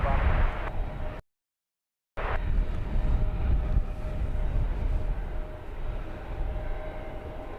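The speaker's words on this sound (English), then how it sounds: "This Wizz Air A321neo is off to Rome, flight number 6002" An Airbus A321neo jet in Wizz Air livery rumbles loud and broad at London Luton Airport, a steady roar broken by a short silent gap.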